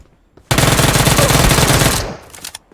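Rapid automatic gunfire in PUBG Mobile on the Erangel map, a loud, unbroken burst lasting about a second and a half and then cutting off, followed by a couple of faint trailing shots.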